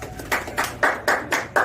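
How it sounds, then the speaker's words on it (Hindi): Audience clapping to welcome an award recipient, Ankit Tiwari, at a theatre awards ceremony of Bharat Natya Sanstha in Ayodhya: a run of loud, evenly spaced claps close to the microphone, about three per second, with a low hum beneath. "जोरदार तालियों से स्वागत किया जाए"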